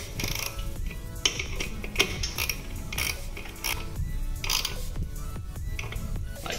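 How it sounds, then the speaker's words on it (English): Wrench tightening a banjo bolt on a brake line fitting of a 92-00 Honda Civic, a series of close ratcheting clicks and metallic creaks in quick irregular bursts, no talking. "Then you'll take a 14 millimeter wrench,"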